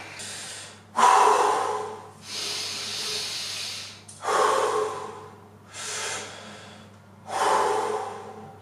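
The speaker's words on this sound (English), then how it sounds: "so now time for second round of breathing" Deep Wim Hof breathing round before an ice bath: forceful, close inhalations and exhalations in a slow repeating rhythm of roughly five breaths, each a loud rushing hiss through the airway, with no talk.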